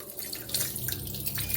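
Water runs steadily from a tap into a pot, for pressure-cooking Jamaican-style cow foot with broad beans: a continuous close splashing rush with no voices.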